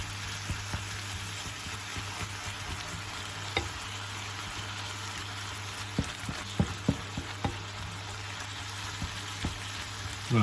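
Browned beef mince frying in a pan with onion, garlic and chilli for chilli con carne: a steady, close sizzle with occasional scrapes and clicks from stirring, no voices.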